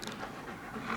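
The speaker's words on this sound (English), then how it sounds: "It's an English bulldog." An English bulldog pants in short, rapid breaths, close and steady for a moment with no talk over it.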